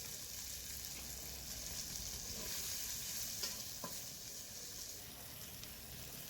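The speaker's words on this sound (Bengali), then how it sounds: "এবারে গাজরগুলোকেও ভেজে নেব।" Carrots frying in oil in a wok for fried rice, a steady hissing sizzle that stays even throughout, with a couple of faint utensil clicks partway through.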